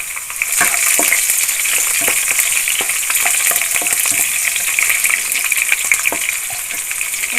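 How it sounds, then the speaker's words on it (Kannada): Two green chillies fry in hot oil in a pan for bitter gourd palya, giving a loud, continuous close-up sizzle with scattered pops and occasional stirring scrapes. "ನೆಕ್ಸ್ಟ್ ಹಸಿಮೆಣ್ಸಿನ್ಕಾಯಿ ಹಾಕ್ತಿದ್ದೀನಿ"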